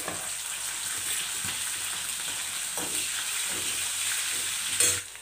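Garlic and green chilli fry in hot oil with cumin, giving a steady, close sizzle. Faint stirring scrapes run through it, ending with a louder clatter of the spoon against the pan.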